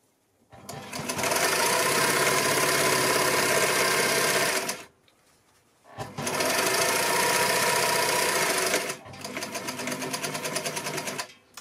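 Domestic sewing machine stitching fabric for a phone holder, a loud, fast, even mechanical chatter running in three long bursts with short quiet pauses between, close up.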